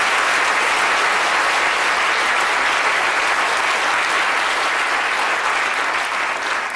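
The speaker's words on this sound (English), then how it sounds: "A round of applause for Tim for trying our water." Loud, dense applause from a lecture audience at a chemistry demonstration, continuous and steady for nearly seven seconds with no break.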